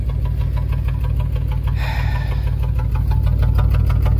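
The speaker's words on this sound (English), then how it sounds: "Yeah, this side's misfiring." A 1994 GMC Jimmy 4x4 engine with true dual exhaust runs with one bank misfiring, a loud steady rumble close by with an uneven rapid stumbling pulse throughout.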